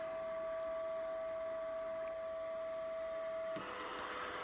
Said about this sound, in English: So there you can hear the heterodyne. So that is WWV coming in.